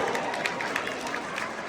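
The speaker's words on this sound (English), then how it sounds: "give a huge round of applause" Applause and crowd noise for a mariachi band at a corporate event, a brief dense wash of clapping and chatter with cheering peaks throughout.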